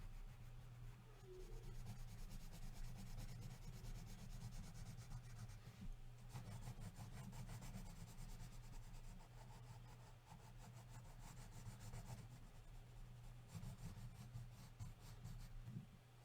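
A pencil shades on paper during a drawing of Batman, making faint rhythmic scratchy strokes that rub back and forth steadily over a low, quiet hum.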